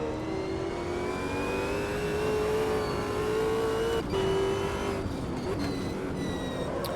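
A race car engine in the sim racing game Automobilista 2 drones steadily and loudly, with rising and falling pitch as the car accelerates and shifts, dropping briefly under braking around the corner, with no talk.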